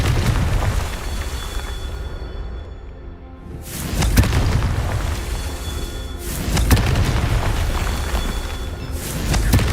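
Confringo spell blasts in Hogwarts Legacy go off as two heavy booming bursts a few seconds apart, each followed by a rumbling roll-off, with dense game ambience filling the gaps.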